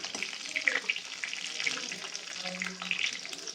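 Whole garlic cloves fry in a pan for mango kadhi, giving a close, steady crackling sizzle with scattered pops throughout.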